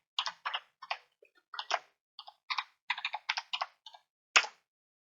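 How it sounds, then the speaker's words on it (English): A computer keyboard clicks out a password in quick, uneven bursts of close, crisp keystrokes separated by short pauses, with one firmer final tap like Enter. "Then type in the password."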